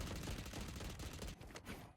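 Rapid bursts of gunfire from a Valorant esports match fill the whole stretch, dense and loud with overlapping shots and no pause, thinning briefly toward the end.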